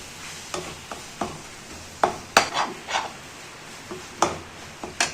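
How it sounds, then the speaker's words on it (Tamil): A spoon scrapes and stirs spice masala sautéing in a pan with soft sizzling, irregular clinks and knocks spaced a fraction of a second apart. "இதெல்லாம் சேர்த்து நல்லா வதக்கிக்கணும்"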